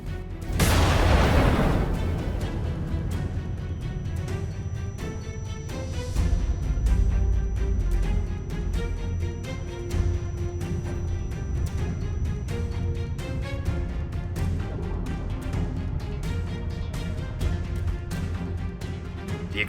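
A deep video-game explosion from a Minecraft Wither Storm mod bursts out near the start, then sustained low rumbling and crackling continue throughout, loud and dense, with repeated sharp hits over a steady roar.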